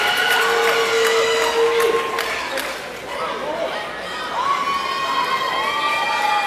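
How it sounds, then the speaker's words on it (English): A basketball crowd cheers and shouts loudly through the second half of a game as the team returns to the court, with whistles and excited voices in a steady roar that dips briefly, then swells again. "the crowd is going crazy as the team comes back on the court"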